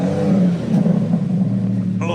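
Mercedes-AMG S63 engine firing up and revving, a loud, steady low-pitched roar that holds for about two seconds close by, with no talk over it.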